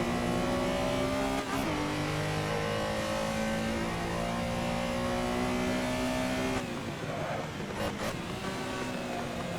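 Engine note of a Porsche Carrera SR racing at Spa-Francorchamps in Assetto Corsa: a loud, steady tonal whine that rises through the revs, drops on gear changes and climbs again, with a brief clunk of shifting.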